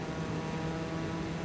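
Propeller aircraft engines in Microsoft Flight Simulator idling before takeoff, a steady droning hum with no breaks, fairly quiet and alone.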